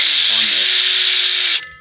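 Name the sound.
drilling hole into natural stone with drill bit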